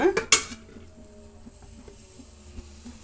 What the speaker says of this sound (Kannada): ಒಂದು ಪಾತ್ರೆನ ಇಟ್ಕೊಂಡು ಒಂದು ಮೂರು ಸ್ಪೂನಷ್ಟು ಆಯಿಲನ್ನು ಹಾಕೋಣ